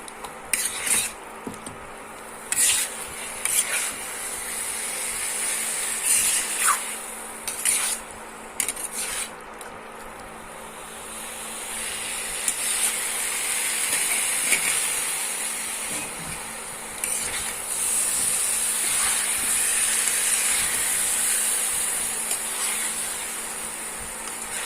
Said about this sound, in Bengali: মিনিট 10 ধরে মশলার সাথে মাংস আর আলুকে ভালো করে কষিয়ে নেব।